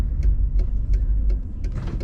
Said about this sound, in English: Today we're driving a 1996 Cadillac Fleetwood Brougham.